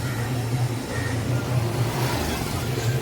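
A car pulls up near a temple during a Ganpati festival outing, its engine a steady low rumble close by with a faint rising hum, over mild street ambience and no voices.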